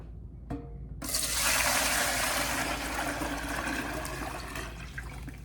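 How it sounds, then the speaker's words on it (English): Homemade bone broth pours steadily into a pan, a continuous wash of liquid splashing that starts abruptly after a brief quiet moment and carries on loud and unbroken to the end. "all I'm gonna do at this point is just pour my broth into this pan"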